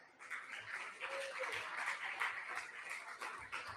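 An audience at a conference talk clapping for a few seconds, a dense, fairly quiet patter of many hands that swells and holds steady.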